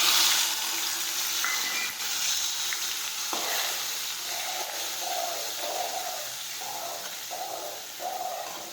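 Ground onion paste hits hot oil in a pan with garlic and asafoetida for an okra gravy, sizzling in a loud, steady hiss with intermittent scraping and stirring sounds.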